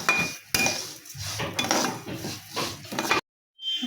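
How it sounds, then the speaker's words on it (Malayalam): Vermicelli (semiya) roasting in ghee in a pan, heard as steady scraping and clinking of a utensil against the pan in quick strokes, close and fairly loud, with a brief silence near the end. "നല്ല ഒന്ന് നെയ്യിൽ നമുക്ക് റോസ്റ്റ് ചെയ്തെടുക്കാം."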